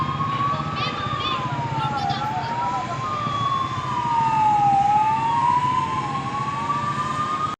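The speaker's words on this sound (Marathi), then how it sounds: "ही आमची फायरची गाडी होती" A fire engine siren wails in long rising and falling sweeps as the truck passes close by, loud and steady over road rumble.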